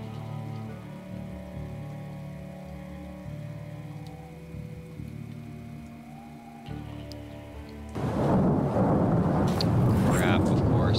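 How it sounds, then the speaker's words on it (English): Rain begins in the video game Project Zomboid, where a quiet, humming game backdrop suddenly gives way to a loud, hissing downpour that continues to the end. "Crap, of course. It would start raining."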